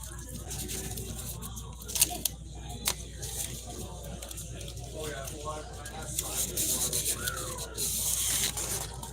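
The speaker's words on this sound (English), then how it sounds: "Just rub it with our thumbs, get any wrinkles off." Thumbs rubbing across a sticky sheet to smooth out wrinkles, giving close, steady scraping and rubbing friction with a few sharp crinkles and tacky peeling sounds, while a person talks quietly in the background.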